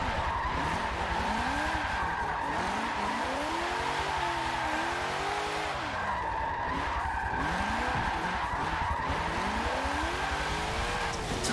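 Tires skid and squeal continuously while drifting in Forza Motorsport 7 on a console, the wavering screech riding over a steady engine drone for the whole stretch, loud and close with no talking.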